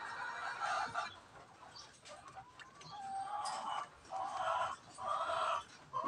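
Chickens cluck in a coop, their calls rising in repeated bursts across the clip at moderate distance, with no talking.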